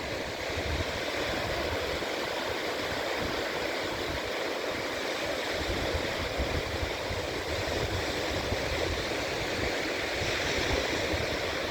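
Sea waves break on the sand at Hat Sai Ri beach at night, a continuous, fairly faint rushing wash of surf with no pauses.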